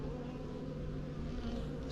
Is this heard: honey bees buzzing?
yes